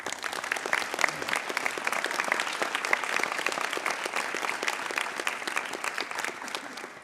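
An audience gives sustained, dense applause honoring senior student leaders at an awards program, a steady wash of many hands clapping that holds at an even level throughout.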